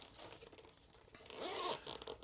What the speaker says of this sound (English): Aqua Guard zippers. I think they're Aqua Guard zippers. Nice opening up.